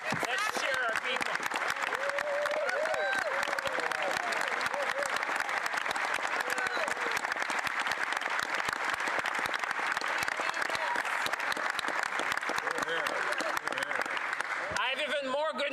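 An audience in a parliament chamber bursts into sustained applause and cheering during a finance minister's budget address, a dense, loud wall of clapping lasting throughout before it fades at the end.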